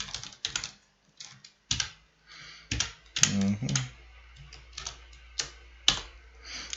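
Code is typed on a computer keyboard in short bursts of crisp, close key clicks separated by pauses, with a quiet voice speaking partway through.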